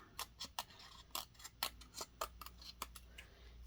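Scissors snip roughly around the edge of black cardstock for a fall pumpkin card, a series of small, quiet, irregular cuts heard close with faint room hum and no speech.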